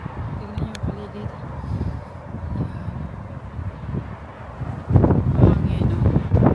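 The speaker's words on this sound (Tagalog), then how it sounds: "Hangin masyado." Strong wind blowing outdoors on a lift, buffeting the microphone in a continuous rough rumble that grows louder toward the end, with a person talking over it.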